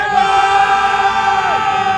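Crowd at the RedBud motocross race in Buchanan, Michigan: a steady roar of many voices with a whoop or siren-like tone sweeping through, loud and close.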